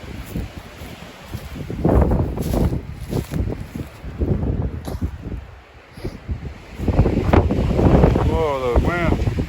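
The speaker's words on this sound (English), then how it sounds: "Whoa, the wind." Strong wind blows hard across an outdoor spot in Tonto Forest, buffeting the microphone in loud, rumbling gusts that rise and fall, while people talk over it.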